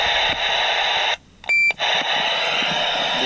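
Steady CB radio static hiss cuts out briefly, then a short high two-tone electronic roger beep sounds before the hiss returns.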